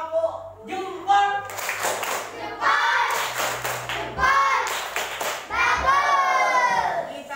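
Elementary schoolchildren in a classroom clap in short rhythmic bursts as a group chant, sharp claps alternating with young voices and a teacher speaking between them.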